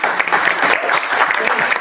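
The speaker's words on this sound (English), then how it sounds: "Applause to you." Applause from the crowd at a makerspace town hall meeting, a thick, loud, continuous clatter of many hands that fills the whole short stretch with a faint hint of voices underneath.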